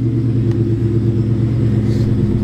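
An old, rusty car engine idles with a steady low rumble at close range, running alone without talk.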